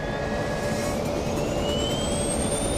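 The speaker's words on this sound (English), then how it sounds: "Just before 5 p.m., the pilots begin their takeoff roll." Turboprop airliner engines roaring steadily during the takeoff roll, a loud, dense rumble with whining tones that climb in pitch as power builds, and no speech.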